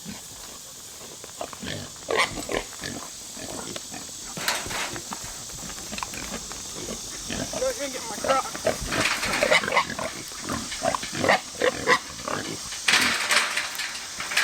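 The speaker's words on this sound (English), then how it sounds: "At least those pigs are loud, aren't they?" Pigs grunt and squeal loudly nearby in a busy, overlapping chorus while a person speaks briefly.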